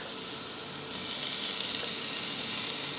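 Onions, carrots and celery slow cook in a soup pot with a soft, even sizzle, faint and steady throughout, heard close without voices.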